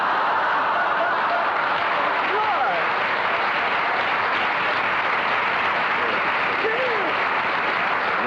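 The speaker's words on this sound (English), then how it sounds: "So she put the record on, and it was just applause." Applause played back from a record in a small room: continuous dense crowd clapping with a constant hiss, holding steady for several seconds without pause.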